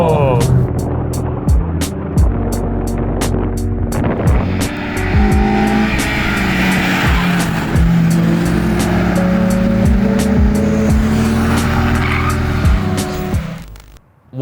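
A Honda S2000 is driven hard on a winding mountain touge road in Japan, its engine revving high and rising through the gears, with tire squeal and road roar close by, then fading out near the end.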